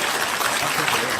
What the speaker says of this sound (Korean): 특별 게스트로 초청해 주신 우리 신소식 부장님께 박수 부탁드리겠습니다.